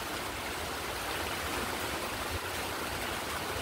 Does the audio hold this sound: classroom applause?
no